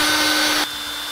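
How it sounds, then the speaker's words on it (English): A power drill whines loudly while boring into a wooden antler plaque, then drops abruptly to a quieter, lower hum partway through a short burst. "Now I'll drill a couple of holes."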